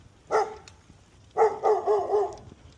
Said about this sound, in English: That right there is a dog.